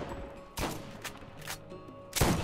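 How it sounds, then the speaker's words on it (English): Shotgun fire in Borderlands, four sharp blasts spaced at a slow, uneven rate, the last the loudest, over quiet game ambience. "Oh my god, that shotgun speed is so bad."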